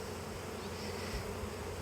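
A honey bee swarm clustered on and around a hive produces a steady, dense buzzing that continues unbroken at moderate level with no voices.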